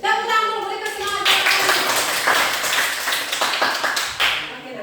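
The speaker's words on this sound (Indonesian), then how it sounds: "Tepuk tangan dulu, berikan semangat." A class clapping hands together in a classroom, a burst of many hands building into brisk irregular applause after a voice at the start, fairly loud and close.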